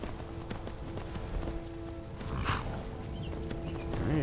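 Horse hooves clip-clop in Skyrim, a steady ride over game ambience with a low tonal hum, moderately quiet and without any talk.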